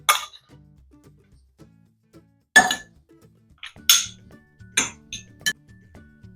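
A spoon mixing an olive-oil dressing into rice in a bowl for a crispy rice salad, heard as a few sharp clinks and knocks against the bowl separated by quiet gaps, close and fairly loud.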